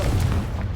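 A single short, deep boom from a Confringo blast spell cast in Hogwarts Legacy, a low rumbling burst with no voices over it.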